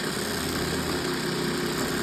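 Beyblade spinning tops whir in a tournament battle arena, a steady, fairly quiet mechanical hum with no clear clashes standing out.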